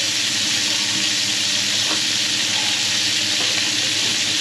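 Carrots and potatoes fry in a pan with a constant, close, fairly loud sizzle and crackle, broken by a few faint stirring scrapes, no talking.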